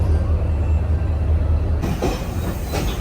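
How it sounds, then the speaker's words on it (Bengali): A train in Sri Lanka, its doors open, rumbles loudly with a heavy low drone as it departs, then rhythmic clattering of wheels on track emerges as it gets moving. "ট্রেন ছেড়ে দিল"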